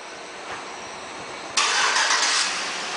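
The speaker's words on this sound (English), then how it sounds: "let's go ahead and get it started. I believe this one's equipped with the remote start" A 2007 Chevy Tahoe LT, a silver SUV, starts remotely: a quiet hiss gives way to a sudden, loud broadband engine catch, which settles into a steady idle nearby with no talking.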